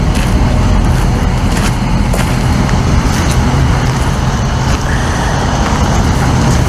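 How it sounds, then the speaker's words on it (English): A car engine idles steadily and loudly at a roadside stop out in the open, a continuous low rumble running the whole time with no speech over it. "I need to turn this engine off though, cause like we're gonna be stranded out here."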